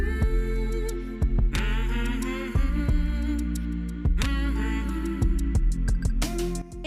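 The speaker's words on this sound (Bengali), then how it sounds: "এবার ঠিক মাঝখানে আর একটা রাউন্ড করে সেলাই করে নেব।" A sewing machine runs steadily while stitching a round of elastic through the middle of baby cotton pants, a continuous mechanical hum broken by short repeated clicks and pauses, close and fairly loud with no talking.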